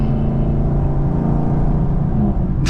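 A Chevrolet Camaro 2SS V8 rumbles loudly in traffic, a deep steady engine drone with a slight rise in revs, close and continuous, with a brief hiss at the very end.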